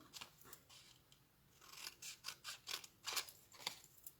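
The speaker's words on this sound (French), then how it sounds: "je peux le faire avec des ciseaux" Scissors snip through a small piece of paper for an Easter basket craft, a quick series of close, crisp cuts that speed into a dense run of snips toward the end, with no talking.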